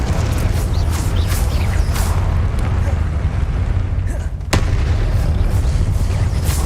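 Confringo blasting spell explosions in the Hogwarts Legacy video game, a continuous loud rumbling battle din with sharp booms and one strong crack midway, while someone talks over the action.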